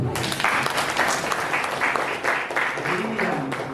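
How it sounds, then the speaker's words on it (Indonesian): A university audience at a public lecture in Indonesia breaks into sustained applause, with a thick, continuous wash of many hands clapping that stays loud and steady throughout, with faint voices mixed in. "Tepuk tangan dulu."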